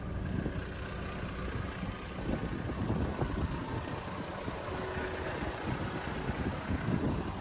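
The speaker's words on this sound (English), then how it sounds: "the wind noise, for whatever reason, it just won't stop now" Wind buffets the microphone outdoors beside a 2025 Mercedes-Benz GLB 250 with Night Package, a steady, rumbling low roar that persists throughout.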